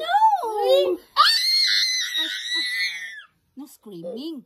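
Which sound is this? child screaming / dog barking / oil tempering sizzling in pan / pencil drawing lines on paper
child screaming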